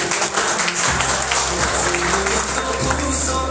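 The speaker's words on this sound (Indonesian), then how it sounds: "Kita tepuk tangan dulu." Applause from an audience at an event for LCD spare-part vendors, a dense wash of clapping with a low hum beneath and voices mixed in.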